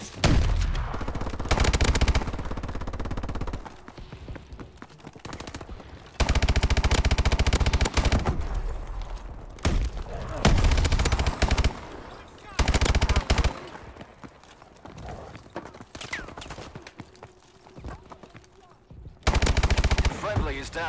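Video game gunfire in Call of Duty: Advanced Warfare exo survival, loud bursts of automatic rifle and machine-gun fire in repeated clusters with short pauses between, and voices talking between volleys.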